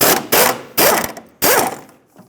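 Three loud, close bursts of a power tool or impact wrench spinning out 10mm bolts from the rear shock mount of a 2012-2020 Ford Focus, each lasting about half a second.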